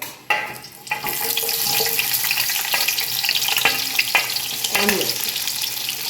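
Onion and green chilies frying in oil in a pan, a bright crackling sizzle that begins abruptly and continues steadily, broken by a few stirring scrapes and clinks.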